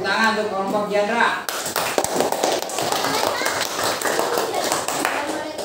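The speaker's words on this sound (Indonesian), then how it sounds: "tepuk tangan untuk kelompok Yandra" Sixth-grade classroom students clap their hands together for a group, a dense, lively round of applause that follows a voice and continues for several seconds at fairly close range.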